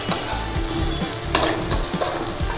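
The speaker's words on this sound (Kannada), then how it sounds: "ಕ್ಯಾಪ್ಸಿಕಮ್ನು ಸ್ವಲ್ಪ ಚೆನ್ನಾಗಿ ಬಾಡಿಸ್ಕೊಳ್ಳೋಣ." Capsicum being sautéed in a pan for a white vegetable kurma, with a steady sizzle under repeated scraping stir strokes and a few sharper clanks, close and fairly loud, no talking.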